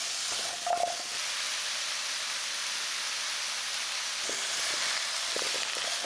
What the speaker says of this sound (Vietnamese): Mình xào lên 1 phút nữa.